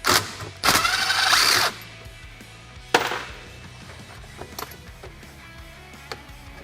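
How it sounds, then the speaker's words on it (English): Removing a screw under the shift boot of a Polaris RZR Pro XP: a short burst of power-driver whirring, then a sharp click and a few faint metallic taps, close and without talk. "So then we'll just slide our shift boot up, remove this screw here."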